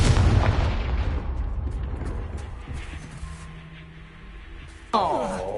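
A Confringo blasting curse in Hogwarts Legacy erupts in a loud booming explosion that rumbles away over several seconds, and a sudden swishing spell effect comes near the end.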